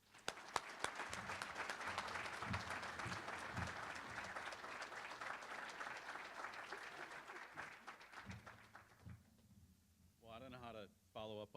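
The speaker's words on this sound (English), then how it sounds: "So please put your hands together for the one" An audience at the M+DEV 2017 keynote claps steadily for a speaker, a dense wash of applause that thins out before a voice begins speaking near the end.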